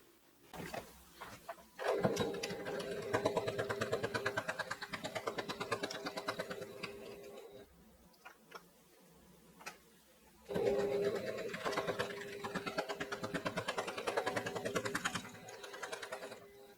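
Sewing machine stitching fabric for a microwavable bowl cozy, two bursts of rapid, even needle clatter close by, separated by a brief pause and a few small clicks.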